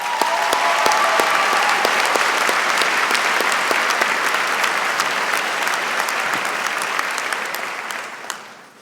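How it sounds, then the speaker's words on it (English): Sustained applause from a commencement audience for the College of Design ceremony, steady crowd clapping throughout before tapering off near the end. "Why don't we give a clap to all the moms?"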